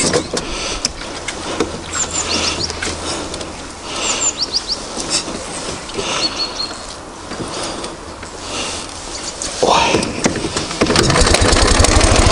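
An engine, started even from the left side, cranks and catches outdoors in the Urals, a rough idle rising to a steady rumble toward the end amid wind and clatter.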